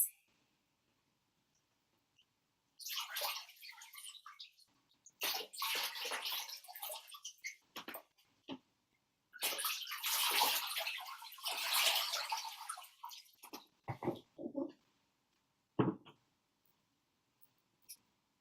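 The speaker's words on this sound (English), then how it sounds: "And give your feet a nice rinse." Water sloshes and splashes in a bowl as hands and feet are rinsed, coming in several bursts of a few seconds each, separated by near-silent pauses and ending with a few short splashes.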